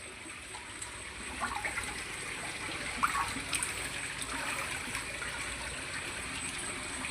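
Water flowing through a drainage tunnel into the Xe Don river, a steady, even rush and trickle that fills the whole stretch with no break.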